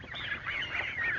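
Geese honking in a run of about four loud, nasal calls with no gaps, close by, with no talking, at a farmyard where poultry are being vaccinated.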